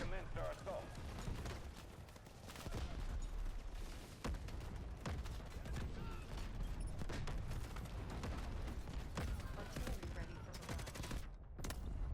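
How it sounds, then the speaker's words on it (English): Artillery and gunfire in the Delta Force Hawk Ops video game, a dense continuous barrage of shots and booming blasts that fills the whole stretch, loud and close, with voices faintly in the mix. "Artillery cover coming."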